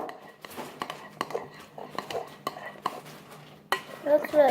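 Homemade slime is mixed by hand in a container, giving repeated close clacks and scrapes in an irregular rhythm, with a wetter squelching burst near the end.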